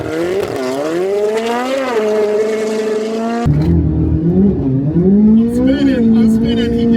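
On a drag strip, a 670 hp C8 Corvette Z06 races a 1025 hp Rivian truck; loud engines roar and rev up through rising gears, one accelerating hard, then another engine takes over with rough, throaty revving.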